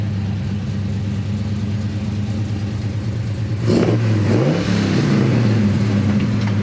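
A 1969 Chevrolet Chevelle big-block V8 idles with a deep, lumpy burble, then revs up sharply and settles back, loud and close, with no voices.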